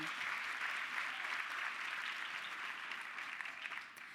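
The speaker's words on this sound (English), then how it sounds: "So big round of applause to them." A round of applause for teachers and pathway coordinators at a women in trades program, steady dense clapping from a large crowd, sustained and even before tapering slightly at the close, heard from a distance without speech.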